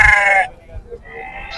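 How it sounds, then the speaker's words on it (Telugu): At a sheep market in Banaganapalle, a sheep lets out a loud, close bleat, then a quieter, shorter bleat follows after a brief pause. "గొర్రెలు ఉన్నాయండి."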